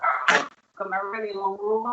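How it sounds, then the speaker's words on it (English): Dogs barking indoors, heard as a few short yelps mixed in with a person talking close by. "By the way, you may hear my dogs barking."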